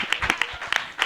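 A church congregation at a worship service claps in a short, brisk burst of scattered, irregular hand claps over a low murmur of the room.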